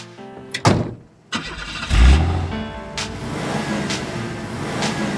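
An old car engine in Cuba, where people race cars dating back to the 1930s, starting with sharp bursts and then revving loudly and running steadily up close, with no talk over it.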